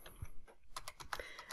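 Typing a VBA macro on a computer keyboard, a quiet, close run of rapid, uneven key clicks with no talking.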